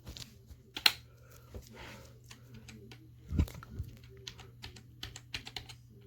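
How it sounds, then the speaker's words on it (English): Scattered, irregular key presses on a computer keyboard navigating an operating system run from a floppy disk, quiet and close, with a few louder thumps over a low steady hum. "Looks like I have to navigate with the keyboard."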